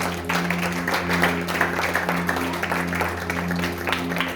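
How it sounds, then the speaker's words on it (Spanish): Church congregation applauding, a steady wash of many hands clapping throughout, mixed with a sustained musical hum underneath. "Dele aplauso al Señor Jesucristo"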